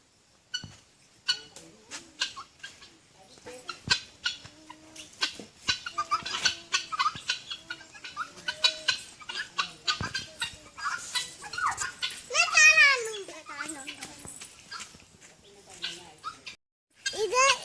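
Hens cluck and squawk intermittently around a yard, with scattered clucks and a louder burst of squawking partway through.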